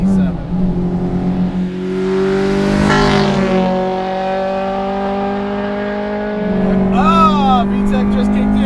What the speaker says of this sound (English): VTEC just kicked in